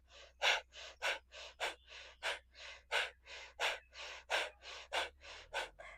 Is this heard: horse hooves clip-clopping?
no